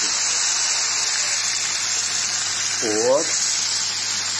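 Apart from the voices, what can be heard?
plain water poured into a cooking pot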